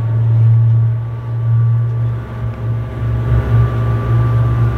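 Motorboat engine droning steadily as the boat speeds across the water in the Maldives, a loud low hum with wind and water rush, continuous throughout with no talking.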